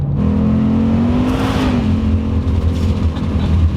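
Vaughn Gittin Jr's RTR Spec 5 Mustang with a 10-speed transmission accelerating hard, its engine note climbing in a strong, close whir and roar with no one speaking.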